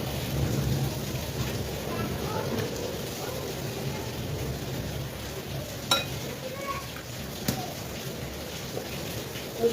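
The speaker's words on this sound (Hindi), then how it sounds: "आवाज भी सुनाई दे रही होगी बारिश की।" Heavy rain pours steadily outside during a strong thunderstorm, a dense wash of noise with a couple of brief sharp cracks near the middle and later, heard at moderate level without talk.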